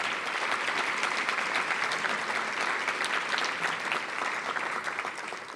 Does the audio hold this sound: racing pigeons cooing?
no